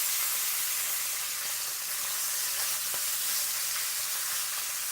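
Food frying in a pan on a home stove, giving a steady close sizzle and hiss with faint scattered crackles and no voices.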